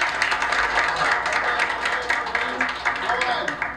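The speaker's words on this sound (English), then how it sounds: "Keep clapping for them" An audience claps after a scene in a school drama presentation: sustained, crackling applause with sharp individual claps, moderately loud, with voices talking over it.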